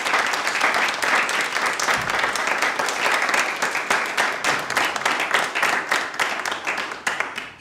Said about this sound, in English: Please give a warm round of applause to Mark.